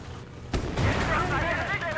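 Heavy artillery and gunfire boom through a World War II battle in the video game Gates of Hell: Ostfront, a sharp blast hitting partway in and then a sustained rumble of fire.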